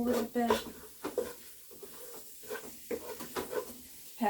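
A spoon stirs chili ingredients in a cooking pot, soft scraping and sloshing that come in short bursts beneath a person talking throughout.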